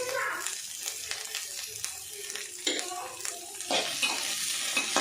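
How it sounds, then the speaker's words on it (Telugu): Whole spices (black peppercorns, cinnamon and cloves) fry in a pan for an Andhra-style chicken curry masala, a crackling sizzle with stirring scrapes and clatter throughout, a voice faintly in the background. "కొద్దిగా వేగనిద్దాం."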